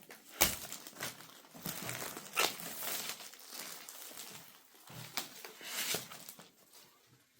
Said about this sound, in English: we'll pull this green tab and take off this cellophane wrapper